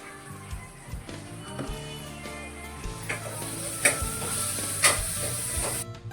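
Onion and tomato sauté in a pan for a fish curry, with a soft, steady sizzle and occasional stirring scrapes and taps beneath sustained background music.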